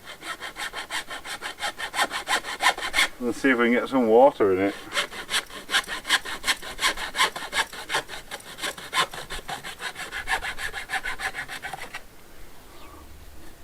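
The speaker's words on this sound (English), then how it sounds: "All I need to do now, cut this pipe off" Rhythmic back-and-forth sawing strokes through a pipe, fast and steady, with a short burst of speech partway through before the cutting stops near the end.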